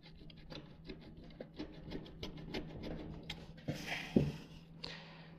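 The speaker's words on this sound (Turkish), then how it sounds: "Klipsi kesiyorum." A plastic cable clip holding wiring is cut with a tool, heard as steady close rubbing and rasping followed by a sharper snip near the end.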